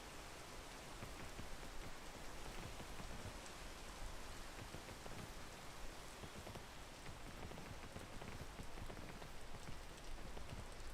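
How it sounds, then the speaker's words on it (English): Rain pours steadily in a video game, a dense, even hiss of drops on surfaces with no breaks, moderately loud and filling the whole scene. "Freaking rain, dude."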